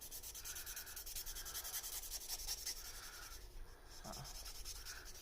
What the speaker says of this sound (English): So to clean this, you can actually rub it really hard on a towel.